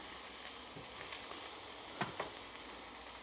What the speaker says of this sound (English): Just let them brown off a little bit.